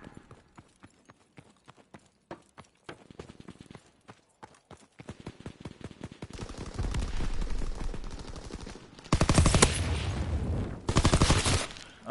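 Gunfire from the Call of Duty WW2 Shadow War DLC, with scattered footsteps and sharp shots that build into loud, sustained automatic fire and bursts toward the end, with no talking.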